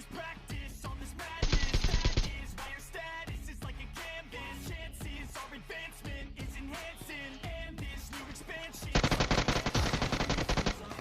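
Gunfire in the shooter game PUBG: rapid automatic bursts crackle loudly in two long sustained strings, with scattered single shots between them, near and sharp throughout.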